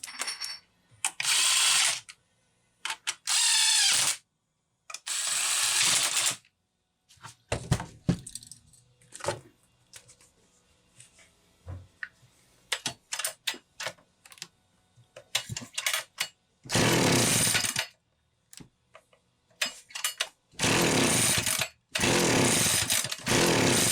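A Homelite 360 chainsaw with spark trouble is pulled and sputters, firing in short bursts between quiet stretches of mechanical clicks and handling, then catches and runs in loud, rasping spells near the end.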